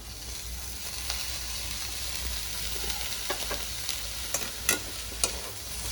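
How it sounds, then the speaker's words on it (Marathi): Spring onion greens are stirred into mashed eggplant bharit frying in a pan, with a soft continuous sizzle and sporadic light scrapes and taps of the spatula, quiet and close, without speech. "कांद्याचे पात टाकून एकजीव करून घ्यायचे"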